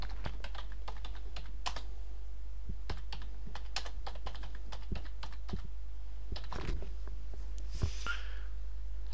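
Keys clatter on a computer keyboard as a search keyword is typed in, a steady run of close, crisp taps with brief pauses and a quick final flurry, no voices.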